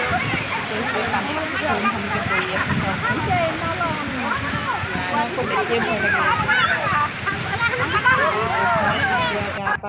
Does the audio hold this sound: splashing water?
yes